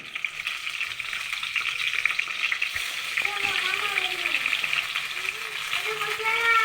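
Eggplant slices fry in hot oil in a pan with a steady, loud sizzle throughout, while people talk over it in a home kitchen.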